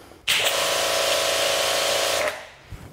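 A portable Kranzle pressure washer starts abruptly and runs at a steady high-pitched whine for about two seconds, then cuts off, with a faint click afterward.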